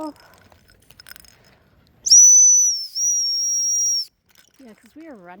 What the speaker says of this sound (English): Blow our whistle.